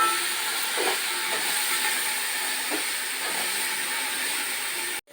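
Ginger garlic paste fries in about three tablespoons of oil, giving a steady loud hiss with a few faint spoon scrapes against the pan, close up and without speech, ending abruptly.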